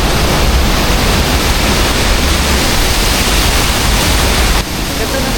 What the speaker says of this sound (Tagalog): Ganda ng falls.